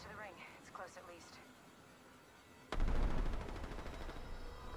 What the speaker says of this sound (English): they're all shooting in front of us